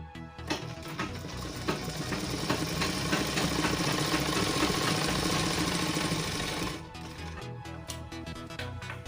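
A sewing machine stitches salwar fabric in a fast, steady mechanical chatter that runs for several seconds, then stops abruptly, leaving a few scattered clicks.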